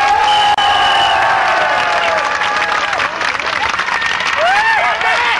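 Audience applause at an outdoor concert, a dense and loud continuous clapping with some cheering and whoops throughout.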